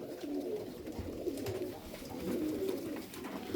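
Several tumbler pigeons coo softly and continuously nearby, their low, throaty calls overlapping with faint rustling in the background.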